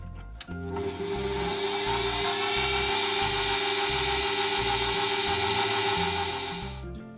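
A stand mixer kneading ube cheese pandesal dough at low speed, a steady motor whine with a rhythmic thumping pulse from the dough, close and continuous for about six seconds, starting and stopping abruptly.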